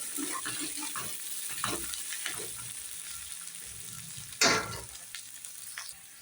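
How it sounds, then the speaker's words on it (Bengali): Ginger paste frying with onions in a pan, a steady close sizzle broken by soft stirring scrapes and one sharp clattering burst near the end. "আদাটা ভালো করে ভেজে নেব পেঁয়াজটার সঙ্গে।"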